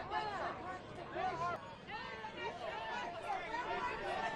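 An upset crowd of protesters shouts and pleads at a street protest, a dense, continuous babble of raised voices at moderate distance with no single voice standing out.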